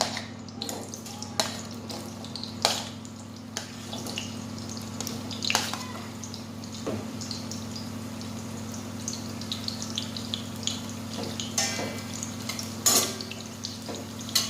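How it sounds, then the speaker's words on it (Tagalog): Carrots frying in a pan give scattered pops and crackles with occasional sharper spatters over a steady low hum, fairly quiet and with no talking. "ang ipiprito natin is yung carrots na naman"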